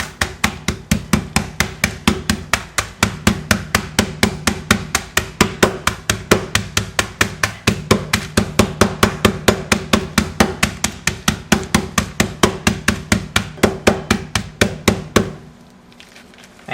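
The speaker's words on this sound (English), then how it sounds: "We're going to use this kitchen hammer to crush that," A kitchen hammer pounds Oreo cookies inside a resealable plastic bag in a rapid, steady run of sharp close-up thuds that continues for about fifteen seconds before stopping.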